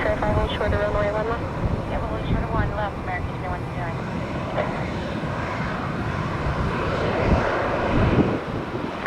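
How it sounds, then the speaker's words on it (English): A passenger airplane taking off at Tampa International Airport (TPA) produces a steady, broad engine roar that swells slightly toward the end. Someone speaks over it at the start. "Nope, they're cleared for takeoff."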